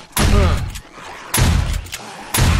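Shotgun blasts in 7 Days To Die Alpha 15, three loud, close booming shots spaced about a second apart, each with a short decaying tail, no talk over them.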